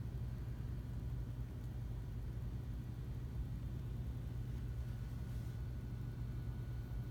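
A Gulf Coast Renaissance ceiling fan motor runs on its high setting, giving a steady, even low hum and whir that holds unchanged throughout with no voices.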